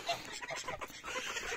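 Geese wait in a farmyard, honking and cackling in short overlapping calls at low-moderate volume, with no one speaking.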